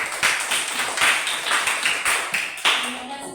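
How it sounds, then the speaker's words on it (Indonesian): A classroom group claps for a group presentation, a steady patter of hands for about three seconds with a few sharper bursts, fairly close, with faint voices underneath. "Kepada kelompok 2 kita apresiasikan dulu tepuk tangan."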